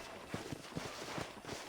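Horse hooves walking at a steady clip-clop in the Red Dead Redemption video game, a series of soft, evenly spaced thuds at moderate distance with no voices.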